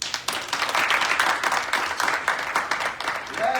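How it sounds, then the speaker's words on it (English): Audience applause at a gun violence prevention colloquium, a steady wash of clapping from a seated crowd lasting a few seconds at moderate level, with faint voices mixed in. "Please clap it up for her."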